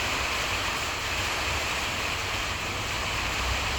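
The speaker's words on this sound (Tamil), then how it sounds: "அது மழை வருதாப்பா." Rain pours steadily outside, a dense, even hiss of falling drops with no pauses and no voices.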